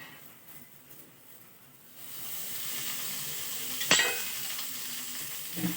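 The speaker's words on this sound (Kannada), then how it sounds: "ಈಗ ಇವನ್ನ ಉಳ್ಳಾಗಡ್ಡಿ ಹುರ್ಕೋಬೇಕ್ರಿ. ಅದಕ್ಕೊಂಚೂರು ಎಣ್ಣೆ ಹಾಕೋಬೇಕಾ." Onions hit hot oil and fry with a sudden steady sizzle that begins partway through, marked by a sharp clink of a utensil and soft stirring, with no one talking.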